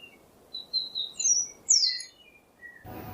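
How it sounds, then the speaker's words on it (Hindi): A baby sparrow in a moral cartoon story gives a string of high, thin chirps and short tweets, spaced irregularly and heard alone against near-silence, ending in a brief burst of noise. "अचानक से उन्हें चिड़िया के बच्चे की आवाज़ आती है।"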